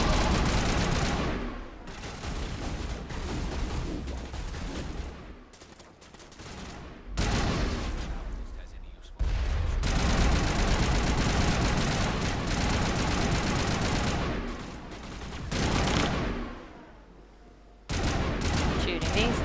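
Rapid bursts of gunfire from the video game Mass Effect on the planet Virmire, dense and loud, with brief pauses between volleys and some speech mixed in.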